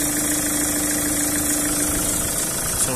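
A 2-litre diesel engine in a black Chevrolet Captiva seven-seater with an automatic gearbox idles steadily, a close and constant hum with a low rumble and a faint knocking tone.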